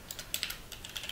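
Quick keystrokes clatter on a computer keyboard while text is entered in the vim editor in a Linux terminal, a close, irregular run of about a dozen light taps.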